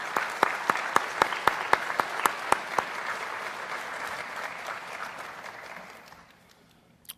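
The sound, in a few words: audience applause at awards ceremony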